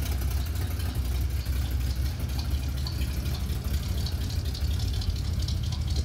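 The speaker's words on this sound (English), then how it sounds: "Let's have a little exhaust leak." A 1957 Chevrolet Bel Air engine idles steadily with an exhaust leak, a continuous low rumble with faint rattling and hiss, close and unbroken throughout, with no talking.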